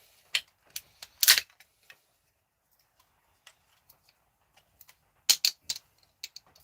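A flathead screwdriver prying up a small plastic part gives off a few sharp, close clicks and snaps, scattered irregularly with quiet gaps between them.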